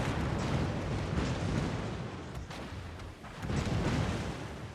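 Loud, continuous rumbling barrage of battleship secondary gunfire in a naval video game, blasts overlapping into a dense roar with a brief dip before swelling again.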